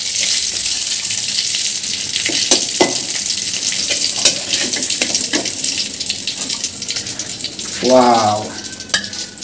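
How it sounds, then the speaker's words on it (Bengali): Fish frying in a pan at home, a soft hiss of oil with scattered pops and crackles over a few seconds, then a brief exclamation from a voice near the end. "এদিকে মাছটা একটু ভাজি হতে থাক"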